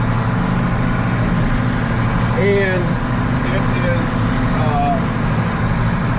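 A tractor fitted with a big rototiller idles with a steady, loud, low mechanical rumble, while a person speaks briefly over it.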